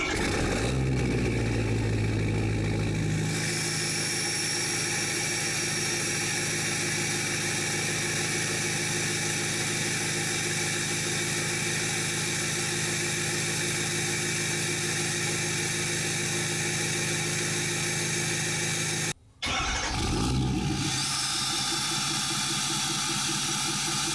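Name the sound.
remote-started Ford F350 6.7 diesel truck with straight pipe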